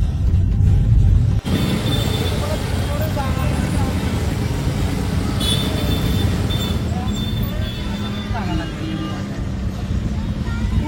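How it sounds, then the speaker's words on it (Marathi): Dense road traffic on a crowded Pune street during the Ganpati arrival festivities: a loud, continuous rumble of engines and vehicles that stays steady from start to finish, with faint higher sounds scattered over it. "एवढं ट्रॅफिक आहे ना आज, बापरे गर्दी खूप झाली"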